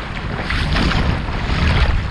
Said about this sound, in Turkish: Hava bugün çok rüzgarlı ve dalgalı.